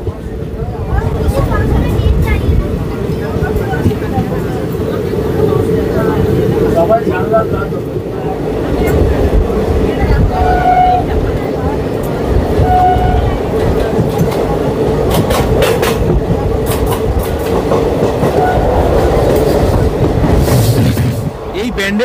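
Ganadevta Express passenger train running on rails between Bandel Junction and Burdwan Junction, a steady loud rumble with rail noise throughout, with talk over it.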